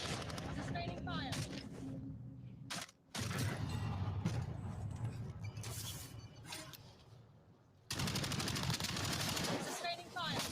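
Bursts of rapid gunfire and mechanical clatter from a video game shooter crackle in loud stretches that cut out abruptly, with a player talking over the action.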